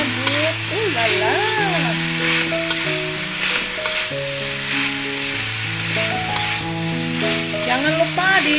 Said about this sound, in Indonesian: Ini masukkan timunnya karena timunnya ini cepat matang ya guys. Aduk-aduk.